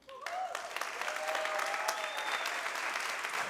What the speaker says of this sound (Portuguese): eu queria que você desse uma salva de palmas